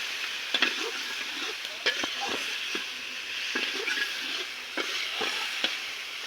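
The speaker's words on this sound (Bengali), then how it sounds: "এখন এটা নাড়াচাড়া দিবে ভালো করে।" Pigeon meat cooks with ground spices in a pan, with a soft constant sizzle broken by repeated scraping and clinking strokes as it is stirred.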